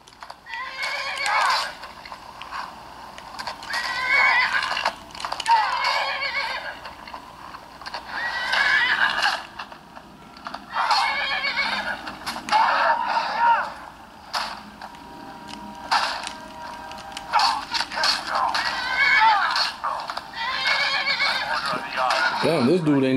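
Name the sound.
horse neighing during a fight in a video game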